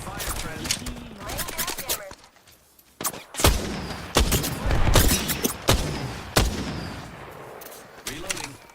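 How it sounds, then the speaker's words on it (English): Gunfire in a team shooter video game, repeated sharp shots and bursts of varying loudness, some close and some distant, with players talking over them. "There's another team shooting at him."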